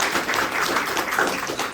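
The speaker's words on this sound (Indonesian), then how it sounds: "Oke, tepuk tangan buat dokternya ini." An audience at an Indonesian podcast event gives the doctor brief, steady applause, a dense patter of many hands clapping at moderate volume.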